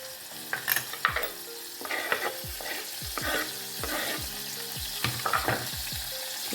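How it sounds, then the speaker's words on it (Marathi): Garlic frying in oil in a kadhai, a steady close sizzle broken by repeated scraping strokes of a stirring spoon against the pan, no voices. "अजून तेल टाकू देऊया थोडा परत लसूण घालायचा"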